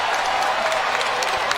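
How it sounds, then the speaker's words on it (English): A crowd at a boxing match claps in a dense, continuous burst of loud applause. "The crowd showing their approval and their appreciation."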